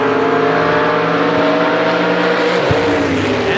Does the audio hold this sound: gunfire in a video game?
no